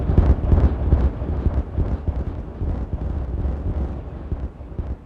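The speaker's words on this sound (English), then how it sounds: "Let's appreciate this explosion." A big explosion in the city-building game Timberborn rolls on as a deep, continuous rumbling blast. It stays loud and heavy for the whole stretch and slowly eases off near the end.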